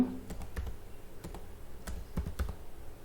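Typing on a computer keyboard, with irregular clicks and clacks of keys pressed in short bursts, close and moderately loud, with no talk.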